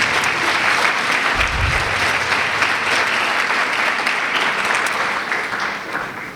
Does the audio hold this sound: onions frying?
no